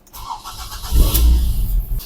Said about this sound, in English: And now I'm going to start the car